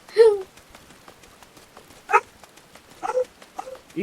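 A dog in the Final Fantasy XIV video game barks in the rain, a few short separate woofs spread over several seconds above a faint rain patter, with no talk over them.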